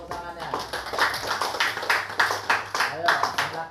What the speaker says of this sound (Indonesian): Baik, kasih tepuk tangannya.